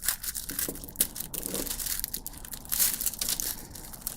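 Reflective insulation material is cut for a boot insole, giving close, crinkly rustling and crunchy snips in an uneven rhythm, with no voices.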